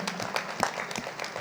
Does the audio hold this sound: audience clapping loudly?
yes